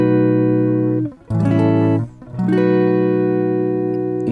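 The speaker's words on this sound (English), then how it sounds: "That's my neck pickup." Electric guitar played clean through the neck pickup with only light compression, sustained chords ringing loud and warm, briefly broken twice by short gaps before ringing on again.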